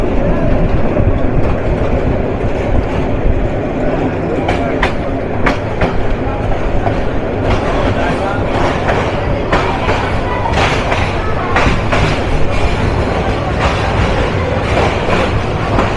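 The Tista Express passenger train on the Dhaka to Dewanganj route runs loudly on the rails, with a continuous heavy rumble and repeated clickety-clack thumps and knocks from the carriage wheels close by.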